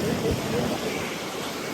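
Steady light rain in Mumbai hisses continuously nearby, a dense even wash of noise with a faint low rumble underneath.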